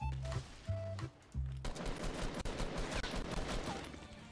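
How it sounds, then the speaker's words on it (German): Rapid bursts of Fortnite gunfire, automatic weapons rattling in dense volleys with a few single shots at the start, loud and continuous. "Ich höre Schüsse."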